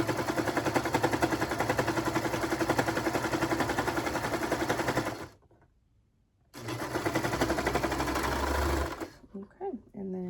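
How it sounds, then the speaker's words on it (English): A serger sewing a knit T-shirt with its cutting knife switched off gives a fast, steady mechanical whir. It runs loud and close for about five seconds, stops briefly, then starts again for a shorter second run. "I'm gonna turn my knife off and sew over that."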